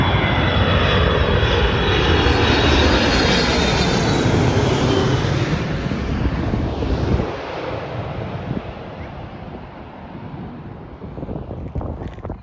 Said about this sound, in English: here's a plane.